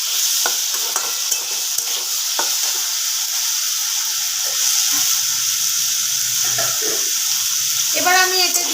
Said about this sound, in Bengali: এবার আমি এতে দিয়ে দেবো আন্দাজ মতো জল।